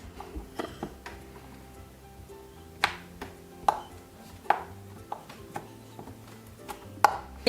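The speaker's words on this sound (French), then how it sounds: "Et maintenant, découpage du fromage." Play-dough cheese cut for a toy burger, a series of sharp, irregular knife taps against a board, close and distinct over a quiet background.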